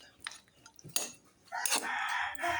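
A utensil scrapes and clinks faintly against a pot of chicken adobo cooked with coconut milk, in a few brief strokes, followed by a steady hiss of simmering.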